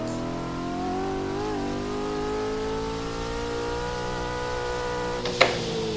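A C5 Corvette Z06 V8 in a racing video game revs steadily upward through fourth gear toward its 7,000 RPM limit, a loud, continuous rising engine drone with a brief sharp click near the end.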